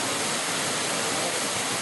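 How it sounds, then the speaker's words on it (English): A waterfall in Jordan pours as a steady, broadband roar, loud and close, unbroken for the whole stretch with no voices over it. "I bet you didn't expect to see a waterfall on this trip."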